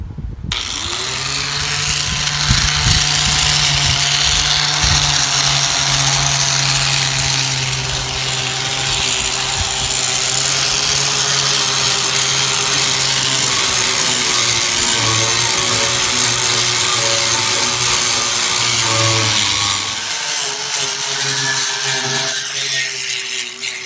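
A power tool scuffs the surface of a diesel fuel tank in one loud, continuous whine lasting about twenty seconds, with a rough grinding texture, before spinning down and cutting off near the end.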